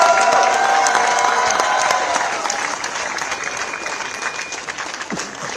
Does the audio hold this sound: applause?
yes